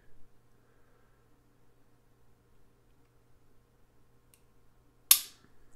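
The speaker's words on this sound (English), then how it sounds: "Now watch when you hear it fire." A Diamondback DB9 pistol trigger clicks once as it is pulled and releases, giving a single sharp snap after a long quiet stretch.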